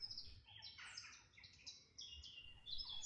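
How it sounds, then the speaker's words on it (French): Birds chirp and sing in a calm green natural setting, a run of bright, overlapping tweets and trills that stay fairly close and steady across the whole stretch, with a faint low rumble underneath. "Les chants d'oiseaux,"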